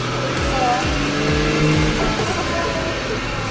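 A Mercedes-Benz running on a lift with a worn rear differential gives a loud, steady engine and drivetrain drone with a faint whine riding on top, close and continuous.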